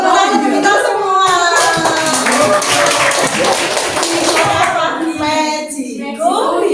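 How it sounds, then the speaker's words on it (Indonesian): Children applauding together in a classroom, a dense, steady burst of clapping mixed with excited young voices and chatter throughout. "Tepuk tangan untuk kita semua."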